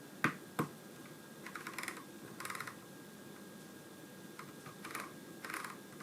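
The push-button volume roller on an MSI GK71 Sonic mechanical gaming keyboard is clicked several times in scattered pairs and short bursts, producing crisp, tactile clicks that are close and quiet with no voices.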